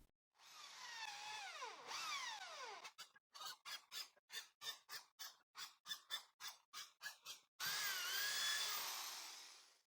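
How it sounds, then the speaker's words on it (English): A drill with a 3 mm bit and 10 mm countersink boring holes in wood pieces, a whining motor that ramps up, then a rapid series of short bursts and a final sustained run, close and loud. "I'll drill holes at the markings using this 3 millimeter drill bit with a 10 millimeter countersink."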